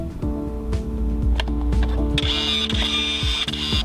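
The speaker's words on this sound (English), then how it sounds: "You will hear the startup sounds as the printer readies to print." A HiTi P310 photo printer whirs and clicks through its startup routine, with close mechanical motor hums, repeated ticking steps and a rising whine in the latter half, with no voices.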